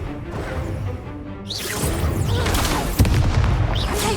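Spell combat effects from Hogwarts Legacy, a low rumble building into loud whooshing magical bursts and a sharp crashing impact near the end, with no voices heard.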